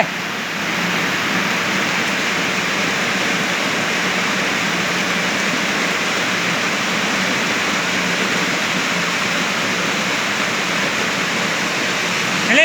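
Rainwater rushes across a flooded road after heavy rain, a loud, even, unbroken hiss of flowing water that stays constant from start to finish.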